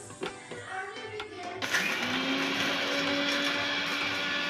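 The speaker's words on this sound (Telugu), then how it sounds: "ఇలా మెత్తగా అయ్యేంత వరకు మనం మిక్సీ చేసుకోవాలి ఫ్రెండ్స్" A mixer grinder starts up partway through and grinds curry leaf masala for curry leaf chicken fry, a loud, steady, close whirring drone after a few quieter kitchen clicks and rattles.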